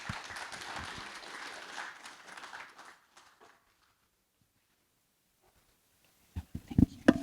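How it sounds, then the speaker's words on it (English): Audience applause welcoming a speaker at a Cambridge talk on sustainable investing, a steady round of clapping that fades out after about three seconds, followed by silence and a few close bumps as talk begins. "I'm always a bit nervous about having a round of applause before I've said anything"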